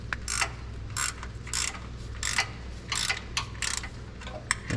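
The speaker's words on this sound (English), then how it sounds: "I'm hoping I can get my ratcheting wrench in here" Ratcheting wrench turning a 9/16 bolt on a Chevrolet Silverado crew cab, with bursts of fast clicking in a rhythmic back-and-forth pattern, close and clear over a low background hum.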